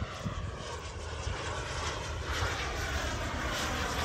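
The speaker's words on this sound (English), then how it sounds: "With a larger turbine instead of just an aerobatics plane." A large RC turbine jet model plane flies aerobatic maneuvers, its engine giving a steady, loud, whooshing roar that swells slightly as it passes, with no voices.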